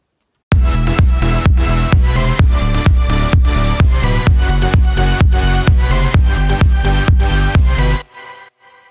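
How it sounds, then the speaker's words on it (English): A heavy electronic music drop with many layers pumps in steady, loud rhythmic pulses with a fat low end, about eight seconds long before cutting off to a faint tail. "So this is a part of a drop that I'm working on right now"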